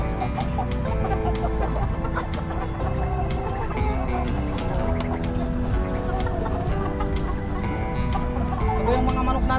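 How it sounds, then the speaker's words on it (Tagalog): A dense flock of chickens clucks and chatters nonstop, many birds close by with overlapping calls and occasional louder squawks. "Ito yung mga manok natin mga Fengyo."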